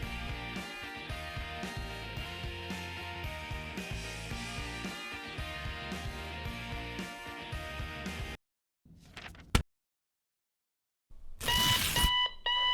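An electronic alarm clock rings loudly in a dense, continuous pattern for several seconds, cuts off, then a brief burst and another loud ringing stretch follow.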